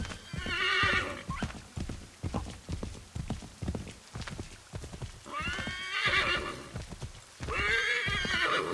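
A horse whinnies several times over steady clip-clopping hooves in the video game Assassin's Creed III, loud and close, with no one talking.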